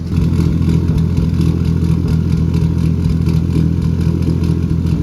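Idle of a tuned car engine running a Link G4 ECU with an advanced idle ignition table, a loud, steady, smooth rumble resonating through the exhaust, close by and without pops.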